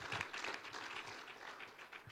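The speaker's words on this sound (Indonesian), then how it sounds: "Beri tepuk tangan lagi buat Tuhan kita." A church congregation gives soft, fairly distant applause during a worship service, a steady patter of hand claps that slowly fades toward the end.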